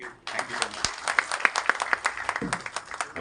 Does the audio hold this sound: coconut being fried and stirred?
no